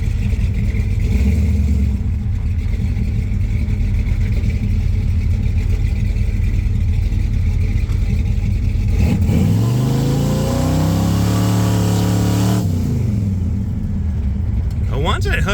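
A 429-powered 1966 Ford Fairlane 500 launches hard at a drag strip, its loud V8 roaring steadily before climbing in a rising rev sweep around the midpoint, then settling back as talk carries over the engine.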